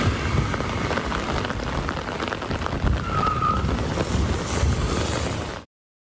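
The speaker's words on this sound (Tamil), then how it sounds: "சூறை காற்றுடன் கூடிய பலத்த மழை பெய்ததால் இதமான சூழல் நிலவியது" Heavy rain driven by strong gusty wind, pouring steadily and loudly close to the microphone with wind buffeting throughout, no voices, ending abruptly.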